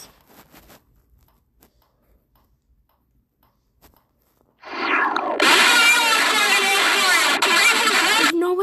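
Japanese emergency alert alarm: after several seconds of near silence with faint ticks, a loud, harsh, densely layered tone bursts in abruptly and holds steady to the end.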